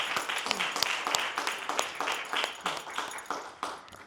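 An audience applauds at an MLK Dream Day event, a dense run of clapping from many hands that stays fairly even and moderately loud throughout.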